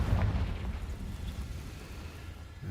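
A Confringo blasting spell explodes in Hogwarts Legacy, a deep rumbling boom that swells at the start and then rolls off into a low, fading roar.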